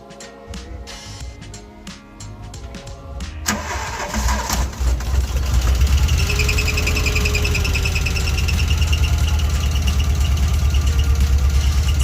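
A rebuilt car engine cranks over with quick starter pulses, catches with a surge, and settles into a steady, loud idle that hums on without interruption.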